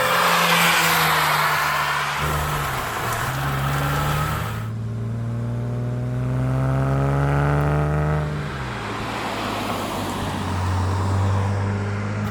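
An old car drives along an open road, its engine droning steadily with harmonics that rise and fall as it shifts through gears and changes speed, the engine loud and close, with road noise underneath and no talking.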